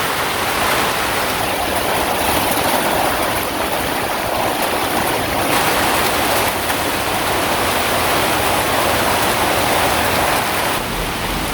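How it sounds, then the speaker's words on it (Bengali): Heavy rain and strong storm wind pour down together over a village, a thick, continuous hiss and roar that holds loud and near throughout, with no talking. "এই যে দেখেন কি পরিমাণ বাতাস শুরু হয়েছে"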